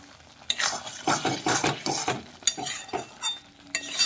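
Amla pickle stirred in a pan as it cooks, with a spoon scraping and clinking against the metal in uneven strokes over a soft sizzle, close and fairly loud.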